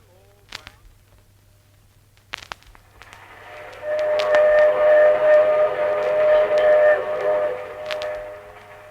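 A radio sound effect of a train on the Union Pacific: a few sharp clicks, then a loud, sustained steam whistle blast over rumbling rail noise, fairly close.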